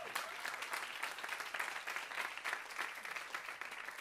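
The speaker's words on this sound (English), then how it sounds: "How about a round of applause for Boz?" Steady, even audience applause at a speaker-series talk, a continuous wash of many hands clapping with no voices, at a fairly soft, distant level.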